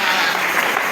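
A church congregation bursts into a short, dense round of applause during a sermon, loud and continuous for about a second.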